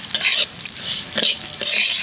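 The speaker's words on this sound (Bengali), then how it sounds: "এবার ডালটাকে ভালো করে একটু ভেজে নেব।" Moong dal frying in oil in a pan, a loud close sizzle that swells in bursts as the lentils are stirred and scraped around, with brief clinks of the utensil and no speech.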